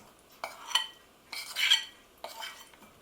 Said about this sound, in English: And I'm going to give that a good stir.